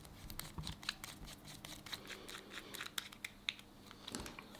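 Pliers snipping off screw heads while a folding knife is being built: a series of small, sharp metallic clicks and snips, close and fairly quiet, scattered irregularly with light handling noise.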